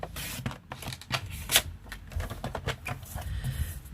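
Designer series paper being trimmed down to 6.5 by 14 inches for a stepper card, giving soft, quiet scraping and slicing sounds with small irregular taps across a few seconds.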